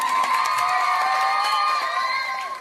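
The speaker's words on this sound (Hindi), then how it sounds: "एक बार जोरदार तालियां शोर करके, थोड़ा सा शोर करके" Children in a crowd cheer and shout loudly at the start of a school play on cleanliness in Patna, a bright, continuous wall of high voices with scattered claps underneath, steady throughout the short burst.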